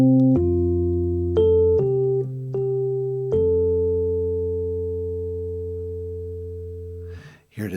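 Auld Lang Syne melody played as pure sine-like tones for ear training, a slow run of clear sustained notes stepping up and down, with the last note ringing long before a brief noise at the end.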